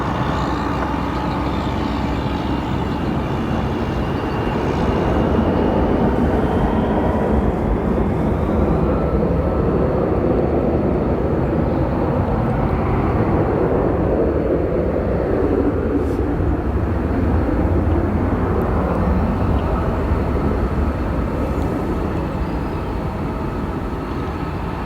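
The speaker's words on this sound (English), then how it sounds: "you are about to witness a 737-924 extended range to Cancun United Express" A United Express Boeing 737-924ER bound for Cancun takes off from Runway 10 at O'Hare, a loud, sustained jet engine roar that swells and holds steady for about twenty-five seconds.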